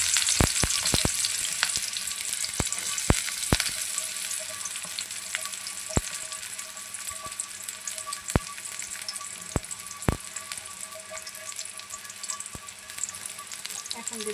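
Chopped onion frying in oil in a wok gives a steady, close sizzle with scattered sharp clicks and scrapes from stirring throughout, and no one speaks.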